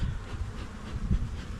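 Honey bees buzzing from a newly installed nucleus colony, a dense, steady hum close to the microphone with slight swells in intensity and no voices.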